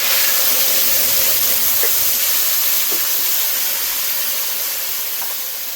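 Ground spice paste sizzles in hot oil for a potato curry with chana dal fritters: a loud, steady, close hiss that holds throughout and eases slightly toward the end, with no voices.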